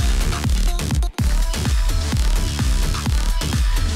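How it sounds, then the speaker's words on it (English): Progressive house mix in which an anvil sample serves as the snare, with hits landing in a steady pulse over thick bass and synths and a brief dropout near the start. "this is the anvil sound that we're using here"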